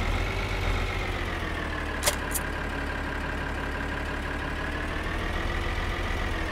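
A tractor engine idles steadily in Farming Simulator 2013, a constant low rumble with a faint high whine that holds level throughout, with one brief click near the middle.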